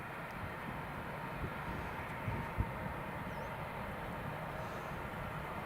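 A KLM airliner coming in to land at Newcastle International Airport, a low, steady distant jet roar on the approach with no one talking.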